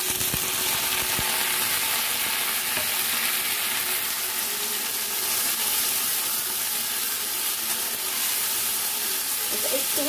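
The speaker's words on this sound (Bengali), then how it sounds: "আলুটা তো লাল লাল করে ভাজা হয়ে গেছে, এবার আমি চালটা দিয়ে দেবো" Potatoes sizzle steadily in hot oil in a pan as rice is tipped in, a dense continuous frying hiss with faint stirring, close and loud, without talk.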